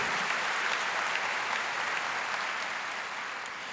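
A congregation at a Catholic prayer gathering applauds, a dense, even wash of many hands clapping at moderate distance, easing off slightly at the end.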